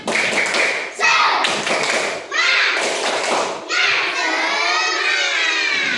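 A class of third-grade schoolchildren performs the rhythmic 'tepuk semangat' clap, sharp patterned claps and taps in quick bursts mixed with loud chanting children's voices.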